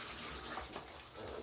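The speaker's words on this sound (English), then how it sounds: "Let me wash my hands real quick." A tap runs steadily as hands are washed during burger preparation, giving a close, continuous splashing rush of water with no talk.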